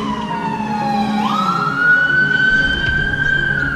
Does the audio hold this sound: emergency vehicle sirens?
yes